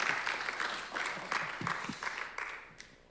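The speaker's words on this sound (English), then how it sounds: "Round of applause for Dan, shall we?" A small audience applauds for Dan at an informal getting-to-know-you gathering, a moderate patter of clapping with a few louder claps, heard at middle distance over low room murmur.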